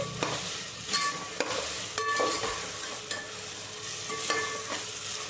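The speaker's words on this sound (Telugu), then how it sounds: "ఇది తొందరగానే వేగిపోతుందండి చూసారా ఎంత బాగా వేగుతుందో అల్లం చుల్లులపై పేస్ట్ కూడాను" Ginger-garlic paste frying with vegetable pieces in a pan for vegetable biryani gives a steady close sizzle, with sharp scrapes and clicks from repeated stirring and no voices.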